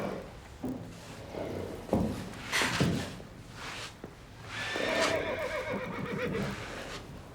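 A horse whinnies loudly, a long shaky neigh near the end, with hoof thumps and shuffling sounds beforehand.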